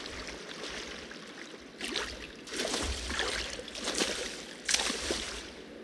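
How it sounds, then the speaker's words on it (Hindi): Rushing, sloshing water in the game INSIDE, a steady wash of flowing water with surging swells and splashes that grow louder midway and toward the end. "मैं कैसे बचूँ इस पानी से"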